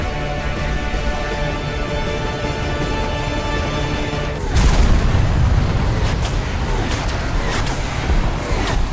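Bombs dropped from an F-15E in the War Thunder combat game strike with a sudden deep boom halfway through, after a steady droning hum, then a rumbling, crackling aftermath.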